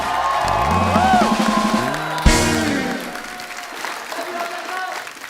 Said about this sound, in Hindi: आप सबकी जोरदार तालियों के बीच सबसे पहले बुलाते हैं मिस्टर अजय देवगन एंड रकुल प्रीत सिंह